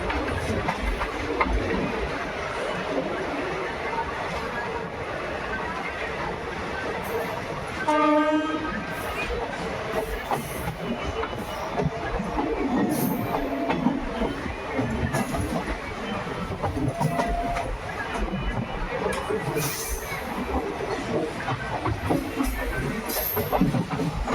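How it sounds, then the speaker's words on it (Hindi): A 22471 Bikaner–Delhi Sarai Rohilla SF Express train pulls into Napasar station, its steady rolling rumble running throughout, with one short horn blast partway through. "ट्रेन पहुँच रही है इसके पहले स्टॉपेज पर, और सामने है रेलवे स्टेशन नापासर"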